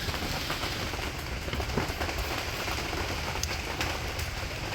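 Steady rain falls outdoors at a building site, a dense continuous patter on surfaces with no voices, filling the whole stretch evenly at moderate loudness.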